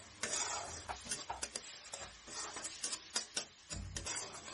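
Ground spices, ginger paste, coriander-cumin, chili and turmeric powder, being stirred together in a pan with a spoon, giving a run of near scraping strokes and light clinks with a soft sizzle beneath, no talk.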